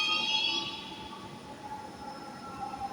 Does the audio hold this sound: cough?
no